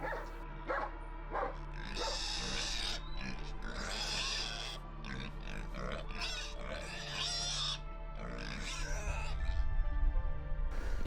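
A busy farmyard with pigs grunting and squealing among barking dogs and other animal calls, including cows, chickens and ducks, loud and continuous throughout.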